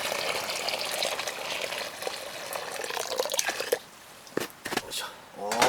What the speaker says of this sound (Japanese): 湯を入れる。